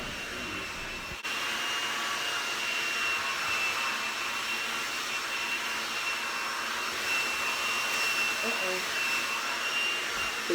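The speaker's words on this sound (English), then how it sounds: "the blow dryer or the heat from the blow dryer is straightening it out" A handheld blow dryer runs steadily at close range as it straightens hair, a loud constant whooshing hiss with a whining tone that starts abruptly after about a second and holds without a break.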